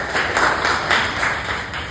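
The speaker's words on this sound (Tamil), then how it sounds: "நாம மிகப்பெரிய ஒரு கைத்தட்டை கொடுக்கலாம்" Audience applause at a Tamil-language speech event of the Panruti Senthamizh Sangam, heard as dense, steady clapping from a crowd, moderately loud and continuous without a break.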